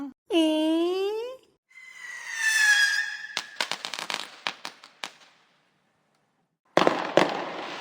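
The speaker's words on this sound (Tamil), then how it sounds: "வெடிய போடுங்க வெடிய போடுங்க" A rising whistle shoots up, then a string of sharp firecracker bangs pops in quick succession, followed by a pause and another short burst of crackling explosions.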